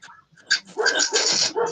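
A dog barks and yaps loudly close by in a quick run of sharp, rising barks and whines with no talk over it.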